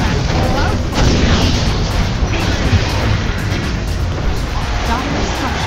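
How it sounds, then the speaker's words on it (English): Explosions and booms in a Dota 2 match as a top tower comes under attack, dense rumbling blasts and bursts layered over game effects while a voice announces events throughout. "Dire's top tower is under attack."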